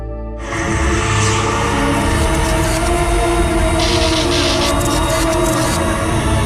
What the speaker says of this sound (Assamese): নামনি মই ট্ৰেইন এখন বহি দিলোঁ